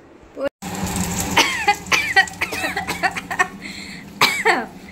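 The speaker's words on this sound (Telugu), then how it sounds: "ఎందుకు దగ్గు వస్తుందో చూసారా?" Repeated harsh coughing close to the microphone, set off by smoke from cooking on high heat, several bursts in a row, mixed with a voice and a brief silent gap near the start.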